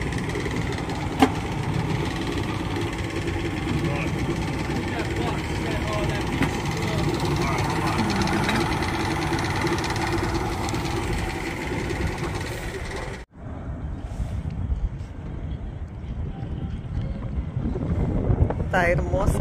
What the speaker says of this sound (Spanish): Algo le pasó a la lancha, que están tratando de prender la